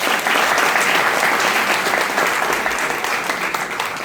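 A gathering at a corporate success event claps loudly for company management in a thick, unbroken round of applause that stays strong throughout.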